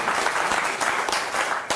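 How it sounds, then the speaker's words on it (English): Audience applause at a mentalism show, a short burst of dense, steady clapping from a crowd, even in level and fairly distant. "Give him a big round of applause"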